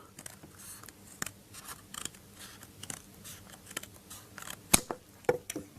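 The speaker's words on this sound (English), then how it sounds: "I'm just going to use scissors for speed." Scissors snip through a cardboard box flap in a series of quick, crisp cuts at close range, with a few sharper louder snips near the end and no talking.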